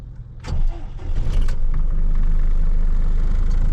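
A truck engine cranks and catches with a short burst, then settles into a loud, steady, close rumble with no talking.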